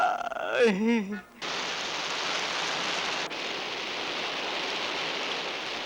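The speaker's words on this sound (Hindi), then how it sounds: "जी वो बरसात आ रही थी ना तो मैं ऐसे ही।" Steady rain pours down outdoors at night as a drama scene plays, a dense even hiss filling the space alone after a brief voice at the start.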